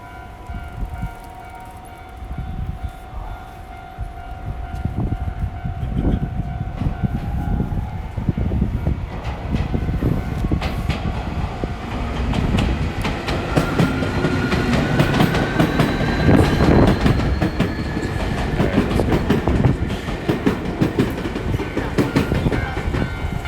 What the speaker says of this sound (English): I'm just waiting for the train to pass.